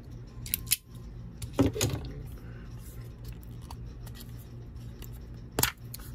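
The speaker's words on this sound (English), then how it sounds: "Didn't realize I was going to have 15 stickers to cut." Scissors snip stickers out of 2021 Leaf Pro Set Power trading cards, producing several crisp, close metallic cuts spaced irregularly over a steady low background hum.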